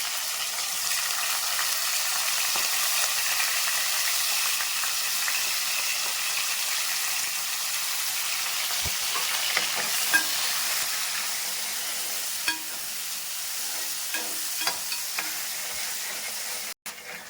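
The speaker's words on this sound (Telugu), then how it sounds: "మనకి ఇవి కొద్దిగా వేగేదాకా గోల్డెన్ కలర్ వచ్చేదాకా వేయించుకుందామండి" Onions frying in hot oil with mustard seeds for a fish curry give a steady, close hiss of sizzling, with a few faint stirring ticks later on and no talking.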